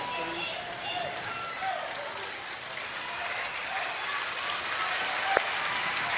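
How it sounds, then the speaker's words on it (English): A crowd at a Little League Baseball United States Championship game between Texas and California applauds, the clapping a steady, moderately distant wash under a broadcaster's voice. "this would be a good round of applause"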